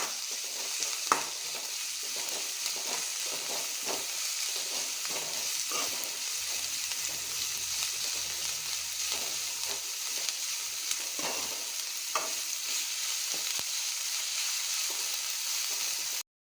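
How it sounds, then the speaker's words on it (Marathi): Finely chopped onion sautéing in a pan for upama, giving a steady, even sizzle throughout with occasional soft stirring scrapes close by and no voices. "आतां हातूंत हांव बारीक चिरून घेतिल्लो कांदो घालतां. तो बरो परतून घेवया."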